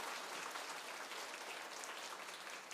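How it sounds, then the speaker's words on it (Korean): A church congregation at Sunday worship applauds to welcome visiting missionaries, a dense, even wash of clapping heard from a distance, fairly faint and continuous, with no talking over it. "우리 박수로 환영하도록 하겠습니다."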